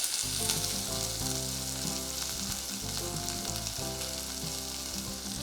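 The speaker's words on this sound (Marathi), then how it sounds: "तूप कडकडीत गरम झाल्यानंतर आता याच्यामध्ये आपण दोन हिरव्या मिरच्या घालूया त्यानंतर घालूया एक बारीक चिरलेला कांदा" Green chillies and finely chopped onion crackle in very hot ghee for a stir-fried water chestnut dish, a loud, dense, continuous sizzle heard up close with no talking.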